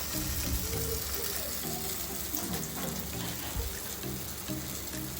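Kebabs shallow-frying in hot oil on a flat pan, steady close sizzling hiss that runs continuously at low level with faint clinks.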